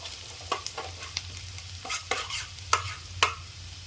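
Onions sauté in a pan for chicken curry: a soft frying hiss broken by a string of quick scraping stirs and spoon clicks, close up, with no one talking.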